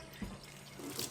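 Hands lathered with honey and oat hot process soap under a running tap, a steady wash of water with soft splashes and rubbing, close and fairly quiet, no one speaking.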